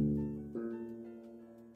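A minor sixth interval sounds on a soft instrument, one tone followed by a second entering about half a second in, both ringing and slowly decaying, faint and alone.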